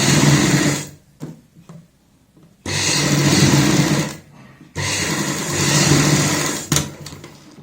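Three bursts of a sewing machine stitching a kurti neck, each a fast, loud, buzzing whir lasting one to two seconds, separated by quiet pauses, close up and with no talk.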